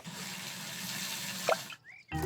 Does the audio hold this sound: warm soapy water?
yes